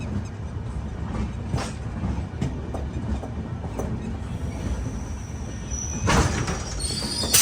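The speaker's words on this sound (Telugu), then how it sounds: "ఆగింది బండి." A passenger train rumbles along the track and eases toward a halt, with a steady low rolling noise and a brief louder clank near the end.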